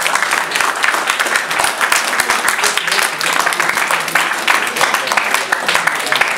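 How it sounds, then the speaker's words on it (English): A crowd claps loudly and steadily after a student political panel at a national student congress, giving dense, continuous applause that holds at the same level throughout. "Just a quick round of applause for"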